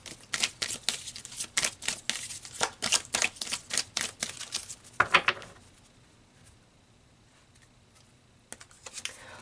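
Tarot-style oracle cards being shuffled and pulled, a run of quick crisp flicks and snaps close by, then a pause in near silence before a few more faint taps.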